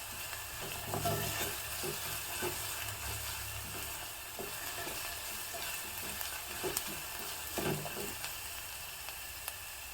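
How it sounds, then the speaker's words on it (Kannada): Chopped onion and garlic sauté gently in a pan, a quiet, even hiss of frying with faint periodic stirring taps, steady for the whole stretch. "ಈರುಳ್ಳಿ ಟ್ರಾನ್ಸ್ಪರೆಂಟ್ ಆಗೋವರೆಗೂ ನಾವು ಬಾಡಿಸ್ಕೋಬೇಕು"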